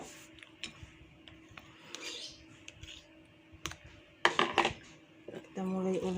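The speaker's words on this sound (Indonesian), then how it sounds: "Sekarang kita ulek udang rebonnya tadi, tapi jangan terlalu halus ya." Dried rebon shrimp being ground with a mortar and pestle for Palembang pempek give off scattered light taps and scrapes, quiet and irregular, ending in a short tonal rattle.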